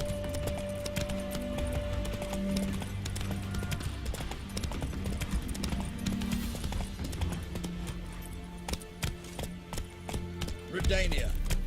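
Hooves of the horse Roach galloping in The Witcher 3, a continuous rapid clip-clop under background music and a voice.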